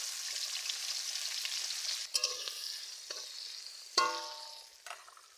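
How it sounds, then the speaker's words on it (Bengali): Chopped onions frying in oil in a wok over a village clay stove, a steady close sizzle with a few sharp bursts as they are stirred, no talking. "কাঁকড়া ভাজা ওই কড়ার মধ্যে আমি তেল দিয়ে দিচ্ছি, পেঁয়াজ দিয়ে দিচ্ছি, কেটে রাখা পেঁয়াজ"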